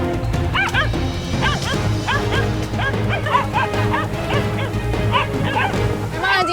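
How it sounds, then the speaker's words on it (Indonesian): Hunting dogs bark and yelp excitedly at wild boar, a close chorus of repeated sharp barks and high whimpering yips layered over one another, with occasional thuds and crashes in the background. "Suara anjingnya terdengar dari sebelah sana. Kalau dia udah mulai menggonggong berarti ada babi di sana."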